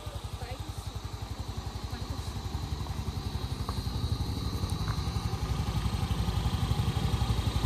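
A motorbike engine idling nearby with a rapid, even putter that grows a little louder as it keeps running, while people talk faintly in the background.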